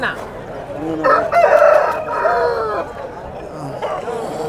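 A rooster crows loudly and close at the weekly Thursday poultry market in Galiveedu, one drawn-out call over a busy crowd murmur, with people talking nearby.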